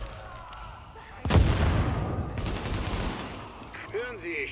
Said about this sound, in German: Das ist ein Scharfschütze